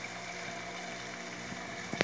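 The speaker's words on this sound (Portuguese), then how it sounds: "porque essa minha bomba não é adequada" An old improvised pump runs in a 300-litre fish tank measuring 1.50 m long, giving a steady low watery hum and gurgle throughout, with a brief louder splash near the end.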